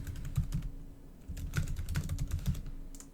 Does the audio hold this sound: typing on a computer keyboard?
yes